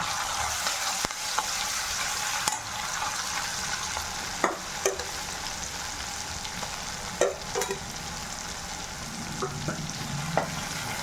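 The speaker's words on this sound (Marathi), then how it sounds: "हे जरा तेलात परतून घ्यायचं आहे." Stuffing masala is stirred and sautéed in oil for stuffed eggplant, a continuous sizzle punctuated by scattered scraping clicks of a spoon against the pan, moderately loud with no voices.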